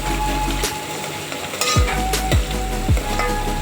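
Chopped onions and three or four green chilies sizzling in a pan for drumstick curry, a loud steady hiss close up, marked by several sharp spoon-on-pan knocks as they are stirred.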